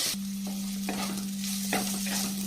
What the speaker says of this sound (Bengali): গাজর আর বিটগুলো বেশ ভাজা ভাজা হয়ে গেছে